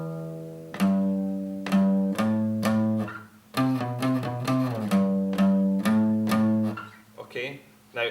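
A riff on guitar, a sequence of sustained, bending riff notes in a slow rhythm, played alone and close.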